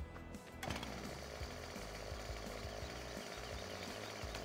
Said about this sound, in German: Das ist die Kettensäge.